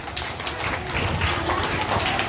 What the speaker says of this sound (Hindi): तो बाबा के लिए भी ताली बजाओ